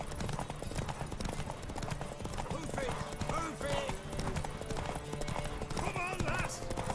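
Quick, steady hoofbeats of a galloping horse in The Witcher 3 run throughout, close and constant, while a voice speaks over them partway through.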